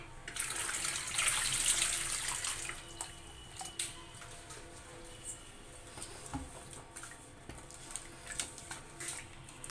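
Elephant foot yam (karunai kizhangu) being washed in water in a home kitchen, with a louder burst of running, splashing water early on that settles into softer intermittent trickling and small clicks.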